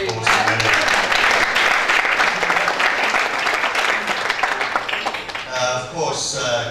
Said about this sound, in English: So put your hand up, Matt Lewis, and a round of applause for Matt.